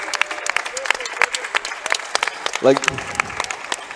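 Audience applause at a CS:GO LAN finals for the winning team, broken claps under commentators talking throughout, with a brief louder burst near the end.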